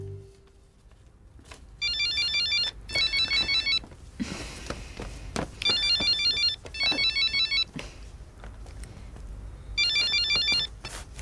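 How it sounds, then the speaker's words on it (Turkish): An electronic phone ringtone chirps in repeated trilling bursts with short pauses between them, over faint background noise. "Telefon!"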